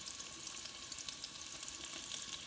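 An apple-glazed roast searing in an oiled pan, a loud, steady, close sizzle and crackle that goes on without a break.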